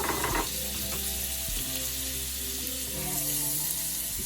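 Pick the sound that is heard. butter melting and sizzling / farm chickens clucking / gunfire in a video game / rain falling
butter melting and sizzling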